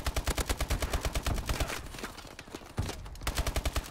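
Rapid automatic gunfire in Call of Duty: Advanced Warfare multiplayer on the Compound map. Fast, evenly spaced shots come in bursts, with a short gap in the middle before firing resumes. The shots are fairly faint.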